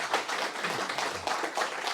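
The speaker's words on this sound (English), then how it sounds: "At least I've got the applause for being on time" An audience at a data science and technology meetup claps at the end of a talk, a moderate, fairly steady patter of many hands with small swells, heard alone without talk.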